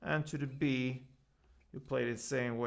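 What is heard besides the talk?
No everyday noise stands out behind the speech.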